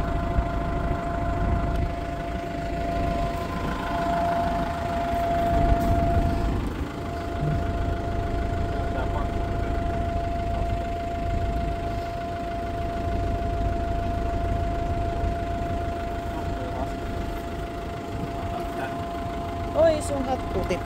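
A tractor engine idles and runs steadily nearby during harrowing work on a farm, a continuous low rumble with a faint tonal hum, while people talk over it intermittently.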